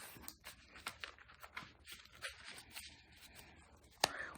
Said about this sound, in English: I want to shuffle. I shuffle until my spirit guides say to stop.